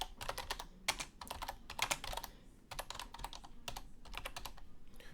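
Keys clatter on a computer keyboard in quick bursts of typing separated by short pauses, close and crisp with no one speaking.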